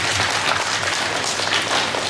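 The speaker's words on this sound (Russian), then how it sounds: "Наши аплодисменты." An audience at an indoor celebration evening applauds, a steady, dense patter of many hands clapping at moderate distance, continuing evenly throughout with no speech over it.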